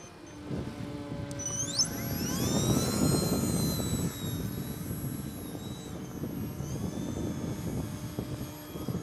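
A radio-controlled model airplane performs aerobatics overhead in light wind, its engine whining steadily and rising and falling in pitch as it passes through manoeuvres, fairly loud and continuous with no talk.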